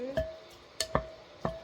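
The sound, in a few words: stirring French onion soup in slow cooker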